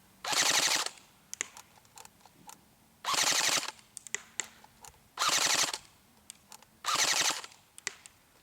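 An Elite Force M4 CQB airsoft rifle fires four rapid full-auto bursts, each a tight rattling string of shots under a second long, spaced about two seconds apart, with faint clicks and handling noise in between.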